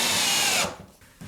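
A power drill drives a screw into a soft wooden beam in a workshop storage room, whining loudly and steadily for a moment before stopping abruptly, leaving a faint room tone.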